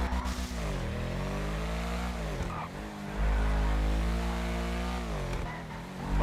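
Ubermacht Sentinel GTS on off-road tires in GTA V, its engine droning steadily and close up, rising and falling in pitch as the car speeds up and eases off through turns, with no voices.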